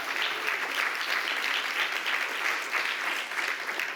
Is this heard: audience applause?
yes